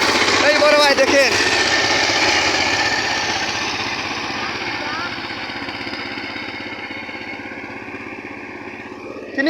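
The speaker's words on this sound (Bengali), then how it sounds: "আপনারা দেখতে পাচ্ছেন কত সুন্দর করে তিনি এই ট্রেক্টর পাওয়ার টিলার এই চাষ হাল বাইতেছেন" A power tiller engine chugging steadily while plowing a field, a loud, rough, continuous mechanical drone that eases slightly over time, with someone talking over it.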